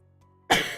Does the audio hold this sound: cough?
yes